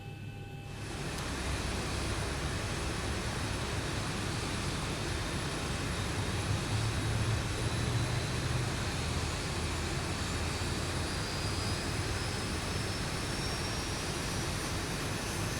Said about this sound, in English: there's both of our lovely engines spinning